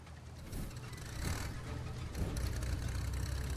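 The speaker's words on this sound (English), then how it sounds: "You hear that? An engine?" A car engine in the Maliki RPG: a low rumbling motor with mechanical whirring that swells in a few waves and grows steadily louder, as if approaching.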